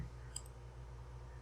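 A single faint computer mouse click stands out briefly over a steady low electrical hum.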